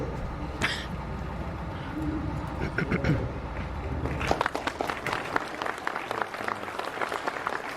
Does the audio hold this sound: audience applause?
yes